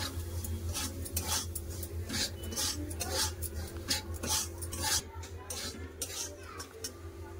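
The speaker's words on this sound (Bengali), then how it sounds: "সুজি খুব ভালো করে একটু লাল করে ভেজে নেবো" Repeated scraping and clinking of a spatula stirring semolina roasting in ghee in a metal pan, with a steady low hum underneath and no talking.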